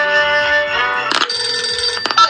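A telephone rings in the Google Assistant Santa call game, a bright electronic trill repeated over a steady tonal backing, with a couple of sharp clicks near the end.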